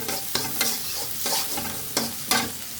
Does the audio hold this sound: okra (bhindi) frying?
yes